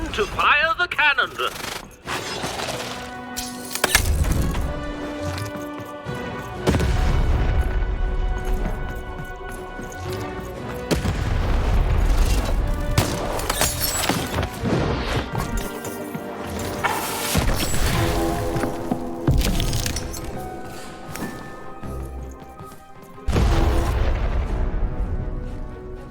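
Cannon blasts in the video game Lost In Random, heavy booming impacts and crashes repeating through a busy, loud game soundtrack with dense effects.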